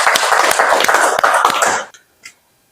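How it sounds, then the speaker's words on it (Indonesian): A classroom group gives a presenting student team a burst of brisk applause that lasts under two seconds, then cuts off abruptly into near silence, with one faint tap after it. "kita kasih tepuk tangan untuk kelompok APRA"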